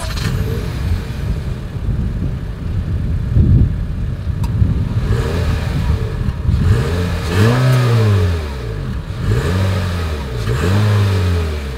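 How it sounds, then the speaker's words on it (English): A 2020 Honda HR-V's exhaust rumbles at idle, then revs up three times in rising and falling sweeps, loud and close with no talking. "As always, here is that exhaust clip."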